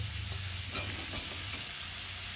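Chopped eggplant goes into a pan of spiced tomato masala frying in oil, giving a continuous loud, close sizzle with a few faint stirring scrapes on top.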